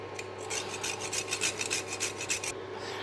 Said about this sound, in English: grate in some nutmeg